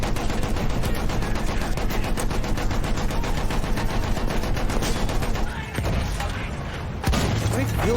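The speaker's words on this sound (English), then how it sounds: "How many field guns do these guys have?" Field guns in the Battlefield 1 game firing rapidly and continuously, a dense, loud pounding rhythm of shots that briefly dips before resuming with heavy impacts, with some talk mixed in.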